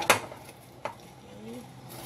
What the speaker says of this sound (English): Okay, stir it again.